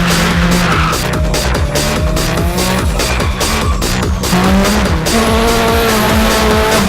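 A powerful car engine of around 1,000 horsepower revs loudly and continuously up close, with steady rising harmonic tones and a rough, pulsing growl throughout.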